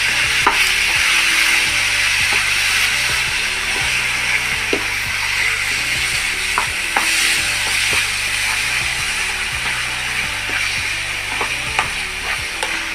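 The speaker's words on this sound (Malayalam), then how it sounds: "നമ്മൾ നന്നായിട്ട് അത് ഇളക്കി അത് പാത്രത്തിൽ നിന്ന് വിട്ട് പോണ തിരിയിലാക്കണം" Coconut burfi mixture being stirred in a pan: a steady sizzle with scraping spoon strokes against the metal, loud and continuous, with faint tapping clicks and a low background hum, no talking.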